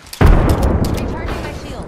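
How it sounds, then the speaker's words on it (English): Grenade exploding in Apex Legends, a sudden loud deep blast that rumbles and slowly fades over the rest of the moment. "Grenade incoming"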